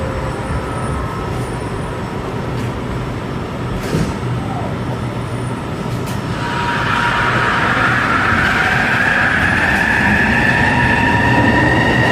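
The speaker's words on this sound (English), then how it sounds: "This train heading all the way to Lafarge Lake in Douglas." A Millennium Line SkyTrain rolling past a busy Vancouver platform, a steady loud rumble that swells into a rising whine as the cars move through, with faint crowd noise around.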